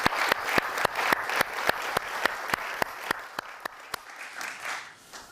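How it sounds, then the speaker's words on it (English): An audience applauds at the close of a healthcare AI conference session, sharp individual claps standing out over a dense, steady patter that thins toward the end. "a warm applause"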